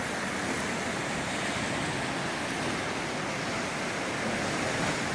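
Atlantic Ocean waves breaking against weathered rocks at Biarritz, France, a steady, dense roar of surf and spray that fills the whole clip at constant loudness, with no voices over it.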